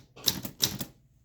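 Two quick bursts of typewriter keystrokes on a Voss ST 32 or Torpedo 18 manual typewriter, crisp close clacks in a short pair of clusters, then silence.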